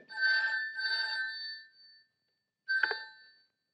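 A telephone rings in a Hindi film scene, with two long trilling rings in quick succession followed by a pause and the start of a third, loud and clear with nothing else audible.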